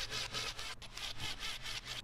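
A screwdriver removes Phillips screws from a Hyundai Tiburon front door panel, giving a rhythmic scratchy rubbing of repeated close strokes, quiet and alone.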